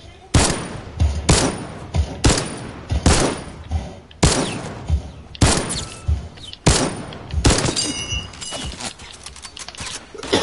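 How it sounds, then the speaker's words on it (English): Rapid bursts of video game gunfire on a PS4 shooter, loud repeated volleys spaced through the clip with brief gaps between them. "People shooting at me."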